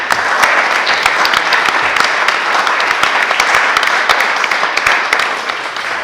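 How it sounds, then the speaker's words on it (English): Sustained audience applause from a sizable crowd, dense, even clapping that stays loud and continuous throughout. "Let's give them a round of applause as well."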